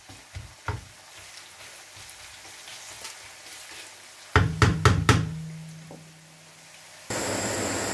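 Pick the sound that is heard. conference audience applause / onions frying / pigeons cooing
onions frying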